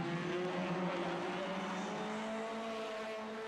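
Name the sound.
Peugeot 206 race cars racing at Nogaro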